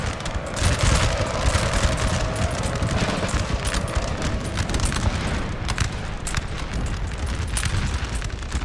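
Dense, continuous crackle of massed musket volleys and booming fire from a Napoleon Total War battle, loud and unbroken, with sharp shots popping over a rumbling low roar throughout.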